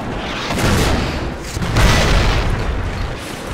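A tank gun fires with a heavy booming blast in World of Tanks, a loud Panzer III shot whose low rumble fills the clip and swells again near the middle, with no talking.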